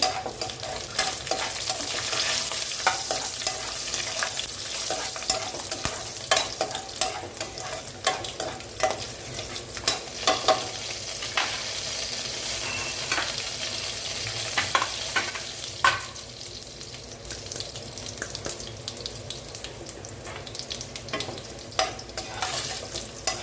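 Green garlic and curry leaves fry in a pan with oil, stirred continuously. A steady close sizzle runs throughout, broken by frequent scraping strokes from the spatula and no voices.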